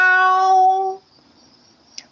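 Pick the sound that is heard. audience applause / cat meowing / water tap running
cat meowing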